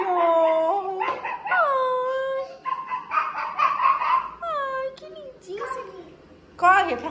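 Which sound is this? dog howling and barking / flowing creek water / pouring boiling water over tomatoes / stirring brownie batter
dog howling and barking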